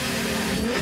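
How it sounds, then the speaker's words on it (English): A supercharged Infiniti G35 engine, up close and loud, holds a steady, dense mechanical roar with a high supercharger whine through the whole brief moment. "G35 with a supercharger on it. Hit it."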